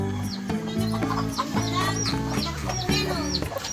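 Several chickens cluck and chatter nearby in quick, overlapping bursts, with higher squawks popping above a steady low murmur.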